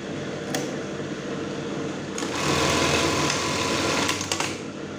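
A sewing machine runs steadily, its motor whirring and needle stitching in a fast even rhythm, growing louder midway with a few clicks; the machine has a fault where its zigzag stitch won't shift right and the needle strikes the blade.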